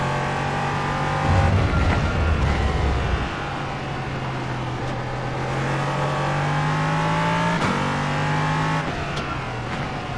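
An LMP3 prototype race car engine at Zandvoort in iRacing drones steadily at high revs, with shifts in pitch and short gear-change breaks through the run and no talk over it.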